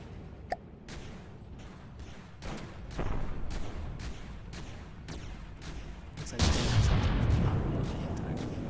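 A medium mech's hand cannons in a video game fire repeated sharp cannon-like blasts in a steady rhythm, followed by a louder, denser burst of roaring gunfire near the end.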